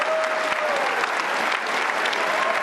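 Sustained audience applause fills the whole stretch, dense and even from start to finish, with no talking on top.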